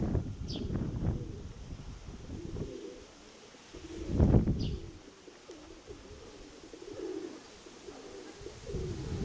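Pigeons coo softly nearby, with a louder low throaty call in the middle, over light wind noise and faint rustling, with no talking.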